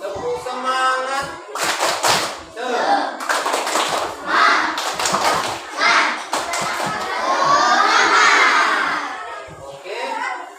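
Schoolchildren in a classroom perform a rhythmic clapping chant, bursts of many hands clapping in patterned beats mixed with the children's voices chanting together, loud and close with short pauses between phrases.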